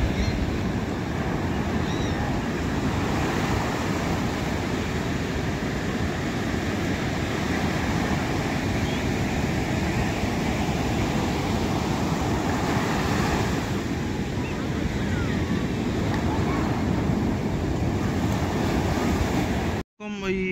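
Surf rolls in steadily at Gopalpur beach on the Odisha coast, a continuous broadband wash of waves with wind noise, loud and unbroken, before an abrupt cut near the end.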